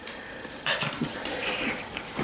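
A miniature schnauzer puppy, about nine weeks old, plays with a toy indoors, making soft whimpers, snuffles and light movement noises close by.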